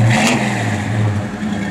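A 1967 Chevrolet Nova SS engine revs and holds a steady, loud mid-pitched drone at close range, with no talking.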